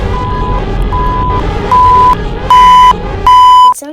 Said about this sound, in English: It sounds like beeping.